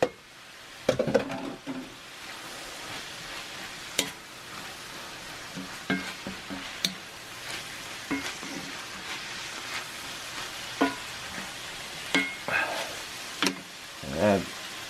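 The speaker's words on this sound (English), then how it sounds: "Alright, gonna add some mushrooms." Mushrooms fry in a cast iron pan for cottage pie, giving a soft continuous sizzle broken by scattered clinks and scrapes of stirring, heard close with faint talk at times.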